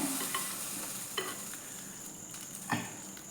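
Fried onion tempering poured into a pan of sole fish curry sizzles with a steady hiss, with a few louder bursts as the hot oil hits the liquid.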